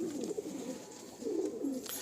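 Golden pigeons in a loft give soft, low cooing calls, two rolling phrases close by at fairly quiet level with no one talking.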